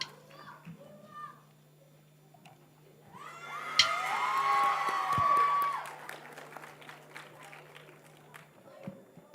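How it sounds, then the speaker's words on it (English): Applause with excited children's voices from the audience at a school Model UN opening ceremony follows a performance, swelling to a loud burst midway, then fading to scattered claps and chatter. "Please give them a big another round of applause."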